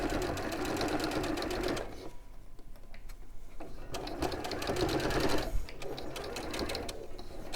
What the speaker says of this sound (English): just bringing those together and sewing across that 1/4 inch